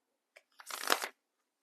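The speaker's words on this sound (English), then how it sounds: "I do like to shuffle on camera." A deck of tarot cards is riffled in one quick shuffle, soft and close, in an otherwise quiet room.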